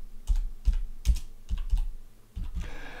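Keys clacking on a computer keyboard in short bursts of a few strokes each, close and fairly crisp, with brief pauses between groups and no voices.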